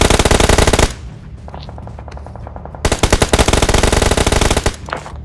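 Loud automatic gunfire in the battle royale game BGMI, rapid bursts of shots at close range, a pause with scattered distant shots, then another long sustained burst and a few trailing rounds.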